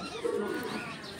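Pigeons coo softly and continuously near the entrance of a tarsier sanctuary in Bohol, Philippines, a faint low murmur with light chirps under outdoor ambience.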